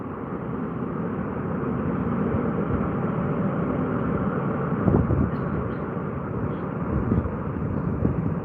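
Jet aircraft taxiing in the departure queue at Heathrow Airport produce a steady, broad engine roar with a low rumble, heard from a moderate distance and holding constant, with a few brief louder swells.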